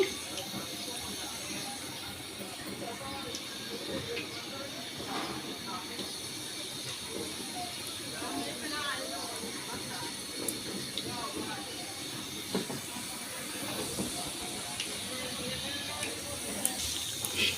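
Steady hissing and sizzling of eggplant fritters frying in hot oil, continuous throughout with small crackles and pops over a constant broadband hiss.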